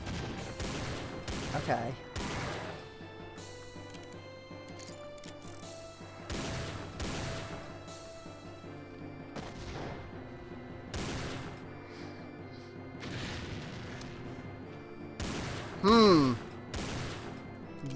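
The Cyberdemon MK II in Doom 2 fires six-shot area-effect bursts, heard as repeated sharp blasts spaced across the stretch amid game music, with a brief spoken word in between.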